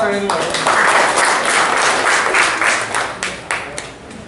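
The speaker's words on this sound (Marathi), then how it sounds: "जोरदार टाळ्या" Loud applause from a crowd at a lucky-draw prize event at a Suzuki dealership, dense clapping that swells and then thins out over several seconds.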